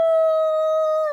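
A person imitates a wolf howl with one sustained, steady, clear vocal tone held for about a second, loud and close, alone with no other sound.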